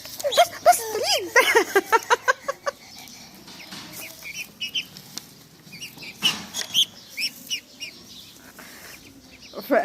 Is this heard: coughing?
no